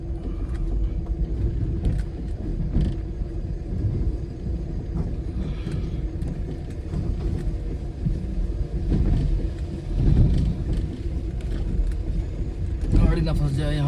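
A car rumbles and jolts along a broken mountain road near a temple on the drive from Mussoorie to Chakrata in Uttarakhand, a steady engine throb with bumps, while people talk over it.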